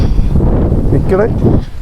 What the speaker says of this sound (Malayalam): അത്രയ്ക്ക് കാറ്റും കോടയും കൂടെ ഒരുമിച്ച് വന്നാലുള്ള പ്രോബ്ലം